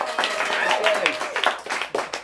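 Audience applause at a book event celebrating author Dennis McNally, a dense crowd clapping steadily through the whole moment, with voices mixed into the ovation.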